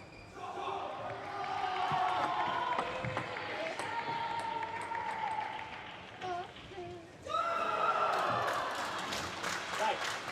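Crowd noise at a Tokyo 2020 Paralympic table tennis singles match, with scattered applause and clapping after a point won with a forehand counter, steady and fairly loud under a busy arena background.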